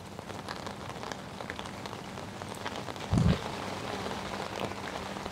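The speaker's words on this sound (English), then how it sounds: "it's absolutely chucking it down the rain" Heavy rain pours steadily onto a lake at a fishing venue in Essex, a dense continuous hiss with a brief louder thump partway through.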